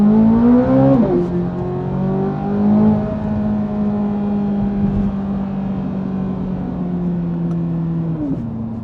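A Corvette C8 Z06 sports car engine revs hard up close, then holds a loud, steady high-pitched roar for several seconds before the pitch drops at the end.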